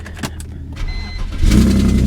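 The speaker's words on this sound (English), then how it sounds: "I have absolute faith that this car will start up without any problems" A 2019 Chevy Corvette with a new exhaust cranks with a few brief clicks and whirs, then catches and settles into a loud, close idle rumble.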